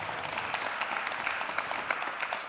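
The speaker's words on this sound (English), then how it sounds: "Let's give these gentlemen a round of applause" An audience at a panel discussion on Judaism and the Middle East gives a round of applause, a steady dense patter of many hands with individual claps popping out, moderately loud throughout.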